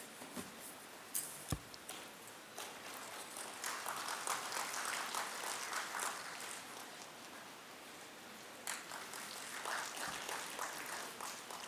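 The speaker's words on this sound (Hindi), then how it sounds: "जोरदार करताली हो जाओ।" An audience at a ceremony for the National Chilika Bird Festival applauds. Scattered claps grow into a fairly quiet, continuous patter that heard from a distance resembles rain, with a few sharper claps near the start.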